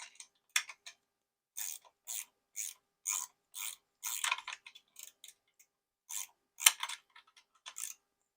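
A ratchet tightens a bolt on a Switch Hitter mount, giving about a dozen crisp, close clicking bursts in an even rhythm with short pauses between strokes, and no talking.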